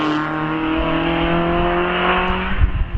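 A Mazda MX-5 races up the Prescott hillclimb with a loud, close engine note. It holds a steady, droning pitch before rough bursts and pops as the car nears the end of its run.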